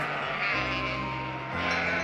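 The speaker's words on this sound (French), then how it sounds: "on entendit du bruit au dehors. Des mots, des chants, le bêlement des moutons," Sheep bleat in a continuous, layered chorus of wavering cries at a farm at night, dense and steady throughout with overlapping voices.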